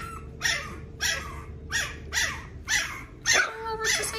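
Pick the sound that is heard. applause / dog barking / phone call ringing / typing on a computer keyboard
dog barking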